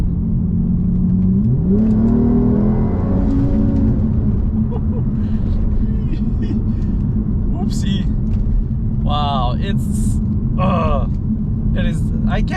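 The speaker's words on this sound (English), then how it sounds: "Let's do a little acceleration." A Volvo P3 T6 car engine with an upgraded intake manifold revs and accelerates with a rising, growling tone and a constant low rumble; brief squeaky sounds appear toward the end.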